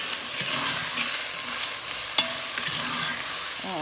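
Onions cooking slowly in a pan with salt, a steady soft sizzle and frying hiss with occasional stirring scrapes and clinks, close and fairly quiet, no talking.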